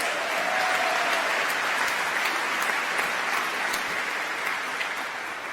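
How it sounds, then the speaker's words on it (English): Applause from the audience at a 2025 college of engineering commencement ceremony, a steady, dense wash of clapping that holds evenly for several seconds at moderate distance, with no speech over it. "Congratulations, another round of applause."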